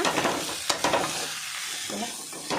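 Chicken masala with ground spices and garam masala frying over a low gas flame, a steady sizzle with scraping stir strokes from a spoon in the pan, close and moderately loud, no voices.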